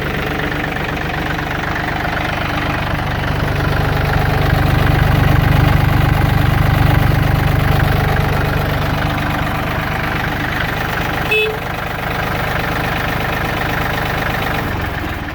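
A Yanmar F265D compact tractor's diesel engine runs at a steady idle with a continuous low rumble, close and fairly loud throughout, with a brief clunk near the end.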